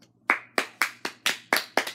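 Seven sharp, evenly spaced hand claps ring out close and clear at a steady beat.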